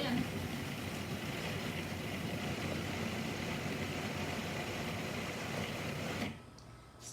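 A blender chops tomatoes and vegetables for gazpacho with a loud, steady whirring roar that runs for about six seconds, then cuts off abruptly, leaving faint room noise.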